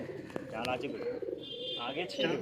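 A female Zeria flying pigeon at a loft in Sankrail, Howrah, coos softly nearby in short rolling phrases, with a person talking over it.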